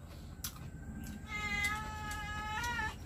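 A house cat meows several times in a rural nipa-hut kitchen setting, the drawn-out cries close and clear over a low background hum, with no talking.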